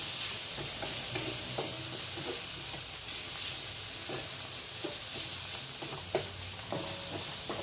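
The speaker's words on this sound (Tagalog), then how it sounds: "Tapos lalagay na natin yung ating spam. Halulin lang natin." Spam frying and being stirred in a pan, with a steady bright sizzle and scattered scraping and clinking strokes of the utensil, close and clear with no talking.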